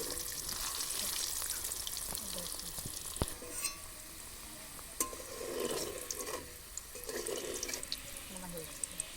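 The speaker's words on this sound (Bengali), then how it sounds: "আমি আলুগুলোকে একটু ভেজে নিচ্ছি লাল লাল করে।" Salted, turmeric-coated potatoes frying in oil in a kitchen, a soft steady sizzle with occasional stirring clinks and light watery bubbling, fairly quiet.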